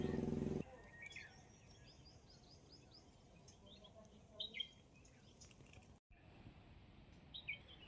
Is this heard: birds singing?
yes